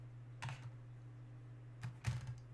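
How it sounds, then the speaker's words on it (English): Typing on a computer keyboard: two short bursts of soft key clicks separated by a pause, close but very quiet over a steady low hum. "I've got to be really careful with typing stuff in correctly"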